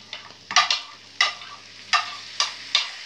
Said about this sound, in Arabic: هقلب التقليبة كده مع الخضار